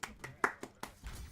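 Five separate hand claps in a steady rhythm, close and fairly crisp, followed by a softer rustle, with no talk.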